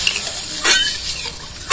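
Water splashes into a pan of spice paste fried in oil for a Bengali hilsa fish curry, giving a sharp hissing burst midway and another at the end over steady sizzling and a little stirring, with no talking.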